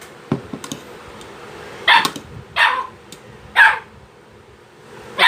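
A pet dog in a home kitchen, near ground-meat cooking, gives several sharp, loud barks spaced over a few seconds, preceded by a few softer yips, with no talking.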